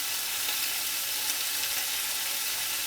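Green bell pepper stir-frying in a pan with mirin, rice vinegar and sake, giving a steady, close hiss and sizzle that stays even throughout with no voices.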